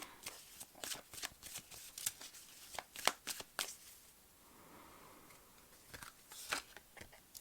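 Tarot cards being shuffled and drawn by hand, a quick flurry of crisp riffling snaps and flicks, then a softer pause of sliding cards before a few final flicks, close and quiet with no talking.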